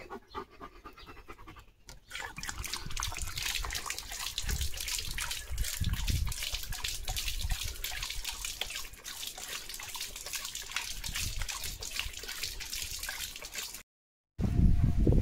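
Water trickles and splashes steadily from a pipe or cooler outlet while a German Shepherd named Leo drinks and pants nearby, a continuous close wash of liquid sound with a short break near the end.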